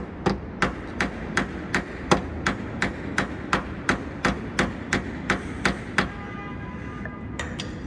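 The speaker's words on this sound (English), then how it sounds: "just gently tapping it with a small hammer" Steady metallic tapping from a small hammer on a stuck dust door of a 1989 Alfa Romeo Spider, about a dozen sharp, evenly spaced strikes close by, then a pause and a couple of lighter taps.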